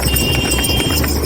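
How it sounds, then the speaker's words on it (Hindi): A horse runs on a bridge, its hooves clip-clopping in a fast, steady rhythm, close and loud under wind noise and some voices. "घोड़ा दौड़ा रहे हैं।"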